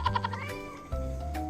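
A pet cat meows impatiently, close and fairly loud, as a few quick chirpy calls followed by a longer drawn-out meow before backyard grilling of pork belly and tilapia.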